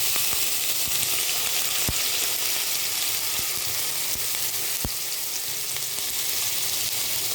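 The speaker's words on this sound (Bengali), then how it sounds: "আর তেলের মধ্যে আমি আগে থেকে করে রাখা পেস্ট দিয়ে দিচ্ছি।" Spice paste of onion, ginger and cashew frying in hot oil with turmeric, salt and cumin powder, a steady close sizzle running throughout with a few sharp pops and crackles.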